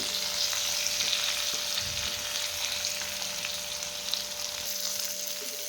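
Masala sizzling and sautéing around brinjal curry in a pan, made in village-style khara wanga fashion: a steady, close frying hiss with faint scraping stirs, no voices.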